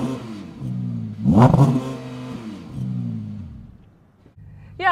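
Audi R8 V10 Performance from 2022, heard from outside with its sport engine sound setting, rising in a sharp rev burst and falling back to a steady idle, fairly close and alone.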